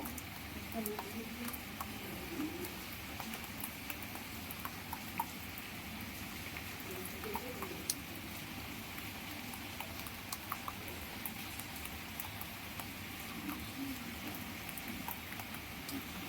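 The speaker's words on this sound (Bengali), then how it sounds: "প্রচুর বৃষ্টি।" Heavy rain falls in a steady, dense patter with scattered sharp drop clicks, fairly faint and continuous throughout.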